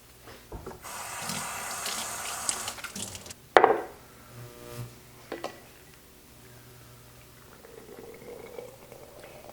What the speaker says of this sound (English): Let it come to a second rolling boil for exactly 1 minute.